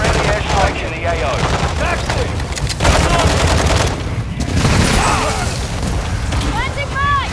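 Heavy gunfire and booming blasts from a friendly airstrike in the Call of Duty DMZ video game, a dense, continuous barrage of shots and explosions with voices talking underneath.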